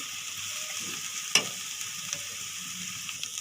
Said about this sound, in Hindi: अब ये भी मैं इसके अंदर मिक्स करूँगी।